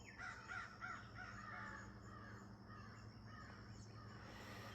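Several crows cawing outdoors, a quick run of hoarse caws early on and then sparser, fainter calls, distant and quiet over a low steady background hum.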